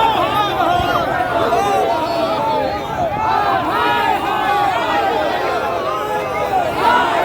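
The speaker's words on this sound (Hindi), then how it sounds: "डाकबंगला चौराहा पर भीड़ है।" A dense crowd of protesters at Dakbunglow crossing in Patna, with loud, continuous chatter and overlapping shouting voices close by throughout.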